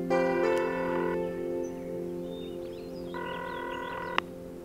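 Electronic telephone dialing tones in the old computer game Wendy, a series of sustained, buzzy synthesized tones that shift in pitch at a few points, ending with a sharp click.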